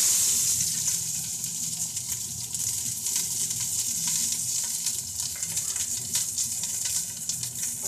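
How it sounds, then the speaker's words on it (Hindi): Onions frying in hot cooking oil for a matar aloo dish, a loud continuous hiss and crackle with an even texture throughout. "तो कुकिंग ऑयल मैंने डाल दी है, अब मैं प्याज डालूंगी।"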